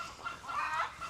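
Chickens kept for laying eggs cluck in a brief burst, a short close cackle with no voices.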